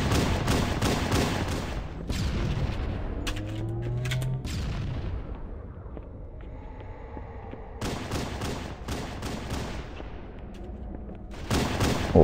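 Gunfire during a Halo CE match, with dense bursts of automatic shots and explosions up close, a brief lull in the middle, then renewed heavy firing.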